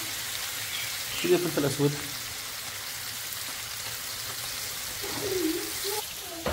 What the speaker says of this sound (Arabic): بعد ما تكون زيت تاعنا دوك نفرغ الخلوط